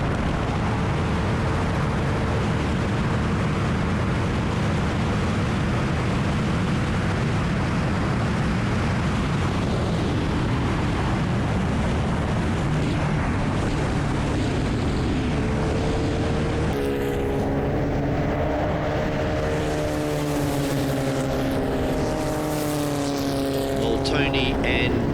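Club race cars at a WA Sporting Car Club round roar continuously on the circuit, one overtaking a few 1200s over a hilltop, with the engine note shifting and climbing near the end. A commentator talks over the racing throughout.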